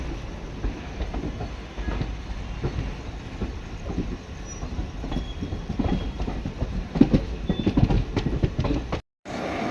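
Indian Railways Krishna Express hauled by a WAP-4 electric locomotive rolls along the rails, a steady rumbling rattle with intermittent clacks and rising bursts of wheel noise throughout, heard from on board and closing with a brief dropout.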